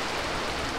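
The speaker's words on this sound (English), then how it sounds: "It's raining, it's a little cold." Rain falling at an outdoor paintball event, a dense steady hiss of drops with no talk, close and even throughout the short stretch.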